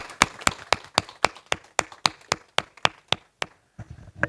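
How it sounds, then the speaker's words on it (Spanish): A single pair of hands clapping in a steady, even rhythm, about a dozen sharp claps close by, then a couple of soft taps. "un aplauso para los dos"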